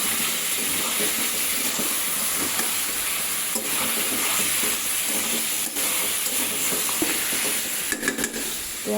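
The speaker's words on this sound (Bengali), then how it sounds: "এদিকে আমি আলু দিয়ে মুরগির মাংসটা কষিয়ে নিচ্ছি।" Chicken and potatoes with ginger-garlic paste frying in a pan, a close, continuous sizzle broken by spatula scrapes and stirring clatter, with a few sharper knocks near the end and no talk.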